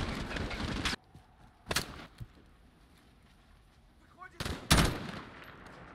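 Gunfire in a Modern Warfare campaign mission: a loud burst at the start, a sharp single shot near two seconds, then a heavy crack and rumble around four and a half seconds, with quiet ambience between.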